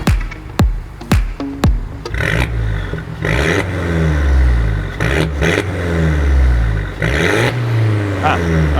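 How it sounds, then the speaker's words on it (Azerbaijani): A two-door car's engine revs in several sharp bursts at first, then settles into a loud, steady drone with rising and falling swells, heard up close. "Maşının səsini eşitmək istəyirsiniz?"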